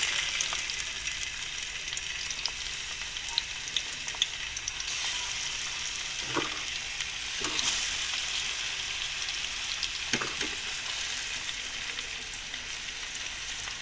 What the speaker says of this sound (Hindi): टमाटर को रोस्ट करेंगे ताकि इसका कच्चापन निकल जाए।